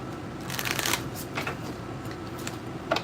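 A deck of tarot cards is shuffled close by in repeated soft riffling bursts, with no talking.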